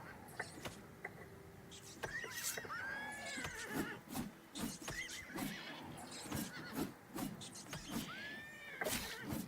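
A horse in Elder Scrolls: Oblivion Remastered whinnies in repeated rising calls amid hoof clip-clops and scattered game sound effects, with no talking.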